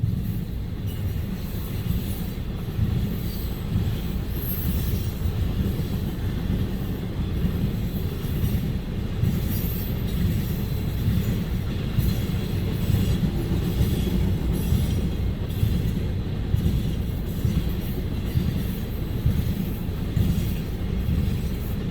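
A CN freight train, U754, rolls past at Ladysmith with a loud, unbroken rumble of railcars and wheels, steady clickety-clack and faint wheel squeal throughout, close and with no talking.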